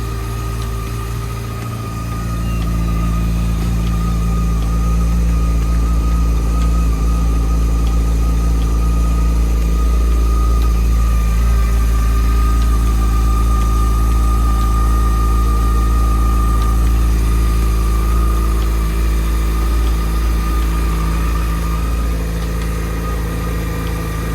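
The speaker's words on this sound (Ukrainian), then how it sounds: "я погазую, почуєте, як працює двигун" A Fazer motorcycle engine idles steadily and loudly up close while warming up, a continuous low rumble with a constant hum that holds unchanged for a long stretch.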